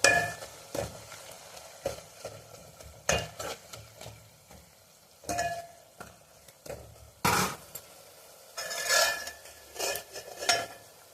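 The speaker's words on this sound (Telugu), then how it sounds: "పచ్చిమిర్చి వేసుకొని ఆ తర్వాత పుదీనా కొద్దిగా వేసుకొని కలుపుకోవాలి. మంచిగా ఫ్రై అవ్వాలి." Green chilies and mint for a Telangana-style chicken curry are stirred in a pan, metal spoon scraping and clanking in bursts over a light sizzle, close by and without talk.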